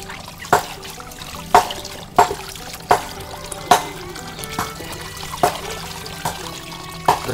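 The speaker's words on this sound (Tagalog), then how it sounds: "Grabe yung tubig, ano? Grabe." Water flows in a steady rushing stream, broken by sharp splashing knocks that come roughly once a second throughout.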